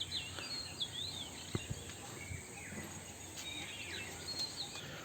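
Birds calling in hilltop forest near a watch tower in the Ajodhya Hills of Purulia, with faint, distant scattered chirps and short whistles over a steady hum of insects.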